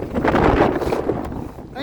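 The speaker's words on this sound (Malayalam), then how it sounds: "ഇതാണ് അവസ്ഥ, കാറ്റ് തുടങ്ങിയാൽ ഇവിടെ കേട്ടോ." Strong, dusty wind in the Mustang region of Tibet roars and buffets the microphone in loud, broad gusts that ease slightly toward the end, with a voice heard briefly.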